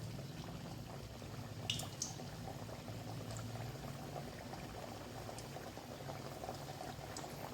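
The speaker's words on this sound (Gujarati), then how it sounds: "તેલ ગરમ થઈ ગયું છે તેમાં આપણે પૂરી ઉમેરી દેવાની છે" Maida puris fry in hot oil, giving a steady, quiet bubbling hiss throughout with a couple of small clicks near the start.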